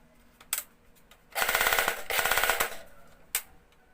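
An airsoft P90 fires two bursts on full auto, each a fast, loud rattle of closely spaced shots, with single sharp clicks before and after.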